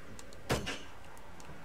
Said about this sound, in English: Ooh, I can close doors.